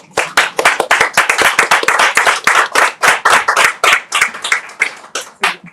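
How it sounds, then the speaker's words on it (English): Audience clapping to welcome guests at a talk on birthing traditions from Africa to the American South, a close, loud burst of dense hand claps sustained for several seconds with no speech. "with a round of applause, let's welcome our guests"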